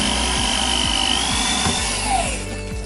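Power drill boring a hole the width of electrical conduit into a plastic bucket for a stacked organic waste bin, a loud close whine with rhythmic grinding bursts as the bit bites, winding down at the end.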